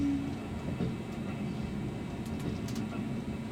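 Winter limited express train running on rails between Rankoshi and Niseko in Hokkaido, heard as a steady low rumble and rolling clatter inside the carriage, with faint clicks of wheels over joints and no voices.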